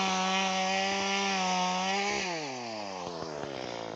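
Chainsaw cutting wood during yard work, a loud steady engine whine that bogs down and shifts pitch as the blade bites into the wood.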